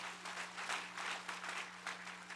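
A church congregation claps in welcome for a wheelchair-using member during a Sunday service, a steady patter of applause held at a modest level throughout, with a low electrical hum running underneath.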